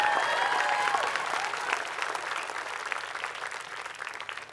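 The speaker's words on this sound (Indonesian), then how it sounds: "tepuk tangan sekali lagi" Enthusiastic comedy show audience applause, a dense burst of clapping that gradually tapers off over a few seconds.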